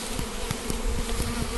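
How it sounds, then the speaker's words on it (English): Honey bees from a freshly installed three-pound package buzz steadily and close by, a dense continuous drone with faint rhythmic pulses and no voices. "Danny, you can see the bees coming up on the frames"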